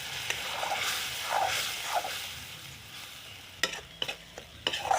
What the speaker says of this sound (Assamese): এইখিনি মই কম জুইত ভাজি আছোঁ